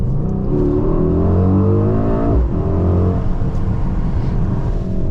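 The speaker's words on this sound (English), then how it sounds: "But let's do another pull in the race mode. Kick down, let's go." A 2023 Mercedes-AMG GLE 63 S Coupé in race mode kicks down and accelerates hard, its engine note climbing in a loud, close, rising roar, dropping briefly at a gear change before climbing again and settling.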